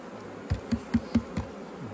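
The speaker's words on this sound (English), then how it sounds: "All I want is these bees in the boxes." Bees buzz around hive boxes during a hive transfer, with a steady insect drone broken by five evenly spaced sharp knocks, close and fairly loud.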